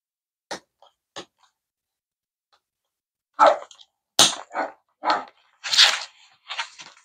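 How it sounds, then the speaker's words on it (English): Several dogs bark in scattered bursts, a few faint yelps early on and then louder, closer barks clustered in quick succession, with no talking. "Dogs are going off."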